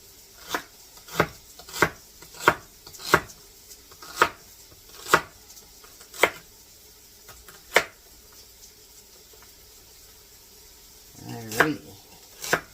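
A kitchen knife slices through cabbage on a cutting board for cabbage soup: about ten crisp, evenly spaced chops, then a pause before a short, quick cluster of cuts, close and clear.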